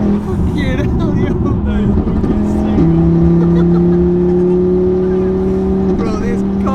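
VW Golf Mk6 R fitted with an Audi RS3 engine making 520 bhp, droning loudly from inside the cabin as it drives, its engine note holding and stepping up in pitch, with people talking over it.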